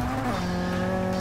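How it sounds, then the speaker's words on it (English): A brief, loud tire squeal with a steady high whine over a racing car engine, from a Forza 6 race. "gotta warm these tires up"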